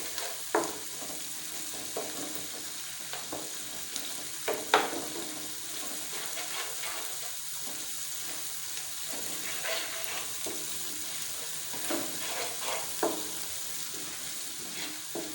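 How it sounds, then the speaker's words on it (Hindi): A steady hot-oil sizzle hisses continuously as spice tempering is added to cooked lentils, broken by occasional clinks and stirring scrapes from a utensil in the pot. "अब हम इस दाल में ये मसाला ऐड कर लेंगे, तड़का जो हमने बनाया था क्लासिक दाल का।"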